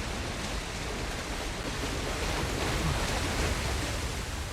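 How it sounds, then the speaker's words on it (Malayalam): Water rushes in during Uncharted: The Lost Legacy, a broad, loud, steady roar of flowing water filling the space without any break for the whole stretch. "വെള്ളം വരാൻ തുടങ്ങി"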